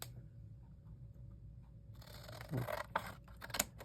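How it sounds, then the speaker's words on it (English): Scissors cut paper along a line during a belly band craft, faint quiet snips and rustles close by that start after a near-silent opening, with a few sharper crunching cuts near the end. "So you just take and cut on your line to the line."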